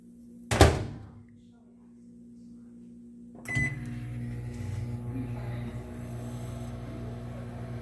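A microwave oven heating marshmallows: a sharp door thunk, then a short quiet pause before the oven starts with a click and settles into a steady, close mechanical hum with a buzzing drone.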